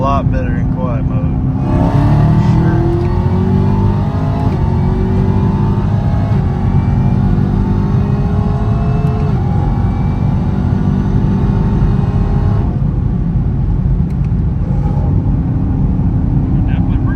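Supercharged Camaro ZL1 fitted with a cold air intake, its engine droning and rising under load with a steady supercharger whine, loud and close throughout, while a voice talks over it.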